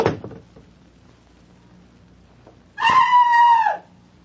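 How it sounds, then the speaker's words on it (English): A woman screams loudly from behind a closed bathroom door in an old radio drama, one sustained, slightly muffled cry after a quiet pause and a brief knock-like sound. "would you mind going back into the bathroom and closing the door behind you? Then scream as loudly as you can."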